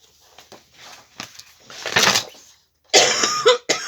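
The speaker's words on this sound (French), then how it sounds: "Pardon, je tousse encore." A few close coughs, starting as soft hacks and building to a harsher, louder coughing fit with brief pauses between.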